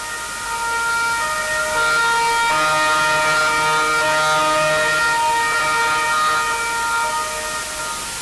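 Emergency vehicle sirens wail continuously and loudly in Trieste, a steady multi-tone blare held throughout with no voices.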